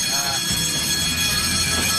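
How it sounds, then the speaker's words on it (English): A passive infrared motion sensor alarm going off, a loud continuous shrill electronic tone with layered pitches that holds steady throughout, with a voice talking underneath. "sets off the alarm"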